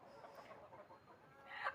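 An all-black desi village hen on a poultry farm clucks in a string of soft, close calls, rising to a louder, sharper cackle at the end, with no talk.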